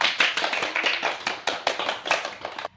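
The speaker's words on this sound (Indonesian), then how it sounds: "Tepuk tangan dulu." Schoolchildren in a third-grade classroom clapping together, quick irregular bursts of many small hands close by, ending abruptly, with no talk.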